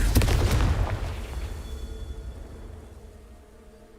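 A Confringo blasting curse explodes in a Harry Potter video game, a loud booming burst up front that rumbles and fades away over a few seconds.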